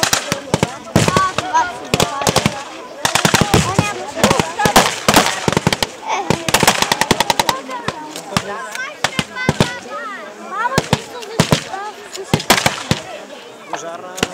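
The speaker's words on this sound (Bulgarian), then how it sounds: "От лавината от куршуми българските юнаци стрелят с оръжие и лично оръжие срещу" Rapid volleys of rifle and small-arms gunfire crack through a Bulgarian battle reenactment in Dobrich in 2016, where Bulgarian soldiers fight Romanian, Serbian and Russian forces. Dense bursts of close, loud shots run throughout, with voices faintly audible between them.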